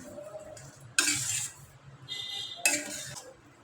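Dabeli masala mixture with salt stirred in a pan, two bright scraping clinks of a spoon against metal over a soft sizzle, close and quiet.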